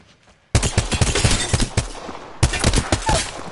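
Bursts of rapid gunfire in a shooter game start abruptly after a quiet moment, loud and close, then pause briefly before a second volley of sharp shots.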